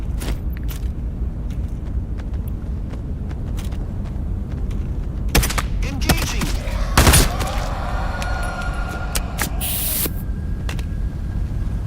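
Automatic gunfire in the video game Into the Radius 2 crackles in sharp, scattered bursts over a constant loud background rumble, with a denser cluster of shots around the middle.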